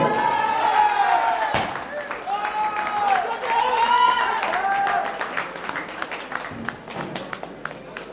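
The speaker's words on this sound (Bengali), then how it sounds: "জোরে করতালি।" A crowd claps for the volleyball champions at an inter-department sports festival prize giving. The applause first rises under an announcer speaking over a PA, then continues as sparser, distinct claps near the end.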